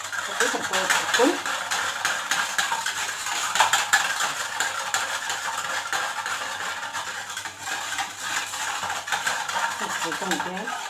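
Cocoa cream ingredients stirred together in a bowl, giving continuous close scraping and clinking of a utensil against the bowl, steady and fairly loud throughout.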